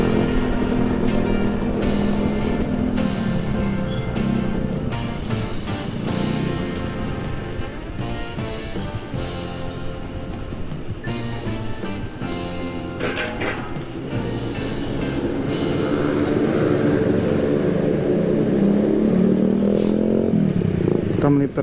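A vehicle engine is held on the throttle during a night ride to Puncak, droning steadily and loud throughout with a slight swell near the end, while people talk over it.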